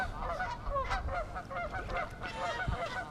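Geese honk repeatedly at a nesting site, overlapping calls rising and falling in an irregular chorus of mid-distance honks with no speech.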